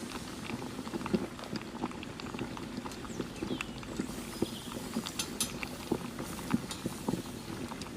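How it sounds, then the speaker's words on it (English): Ginger and garlic sauté in a hot pan for pork ribs. A soft, steady crackle runs close by, with scattered small pops and ticks throughout. "Sauté for 20 seconds."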